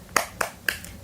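A 'tepuk semangat' clapping routine led in a classroom lesson, three sharp, close clap or snap hits spaced evenly and quickly, with no talking between them.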